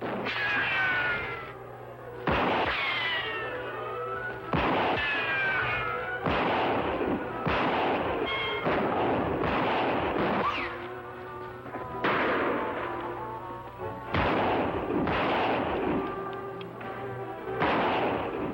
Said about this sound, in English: Shots aren't coming from the same direction.